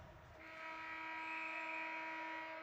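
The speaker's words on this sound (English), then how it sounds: "So the buzzer sounds" A final buzzer blares at the end of a college ice hockey game in a rink, a loud, steady sustained tone lasting over two seconds.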